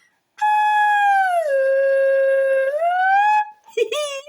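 A flute blown with a finger inserted into it, a sustained breathy tone that bends down in pitch, holds, then slides back up before breaking off into a brief wavering squeak.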